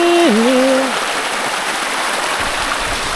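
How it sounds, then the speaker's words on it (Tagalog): Heavy rain pours steadily in a broadband wash, loud and continuous, with a brief voice at the very start before the downpour carries on alone. "Ayun oh, dahil sa lakas ng ulan oh,"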